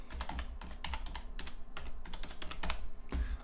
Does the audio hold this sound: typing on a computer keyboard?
yes